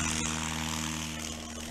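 A STOL aircraft at the Sodbusters National STOL Series event in Brainerd takes off, its propeller engine droning steadily and loudly with a constant low hum throughout, no voices present.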